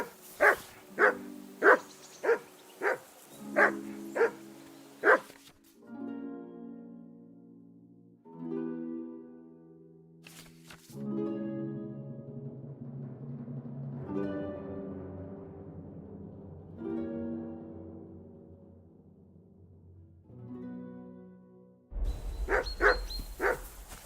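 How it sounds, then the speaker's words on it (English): A dog in the medieval video game Kingdom Come: Deliverance II barks about seven times in a quick, steady run at the start, followed by a long stretch of game music and a brief loud noise at the end. "That dog of yours is barking like the devil."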